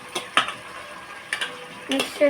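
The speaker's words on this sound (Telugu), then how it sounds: "చూడండి ఫ్రెండ్స్, ఇలా మిక్స్ చేసుకోవాలి." Food being stirred and mixed in a pan, with a few close scraping, clinking strokes of a utensil in quick irregular succession.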